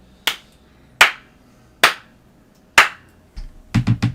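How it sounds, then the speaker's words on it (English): Slow clap by a single person: four loud, evenly spaced hand claps about a second apart, then a quicker burst of three or four claps at the end. "You get a slow clap for that."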